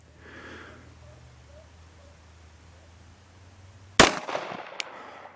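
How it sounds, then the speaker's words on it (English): Single handgun shot fired at a target with XS DXT 2 sights, a sharp loud crack partway through followed by brief echoing decay after a quiet lead-in. "it's a little bit of a challenge shooting through the viewfinder"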